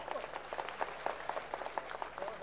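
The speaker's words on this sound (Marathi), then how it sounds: "जोरदार टाळ्या" Faint, thin clapping from an audience at a political rally, a loose patter of individual claps heard from a distance over low background noise.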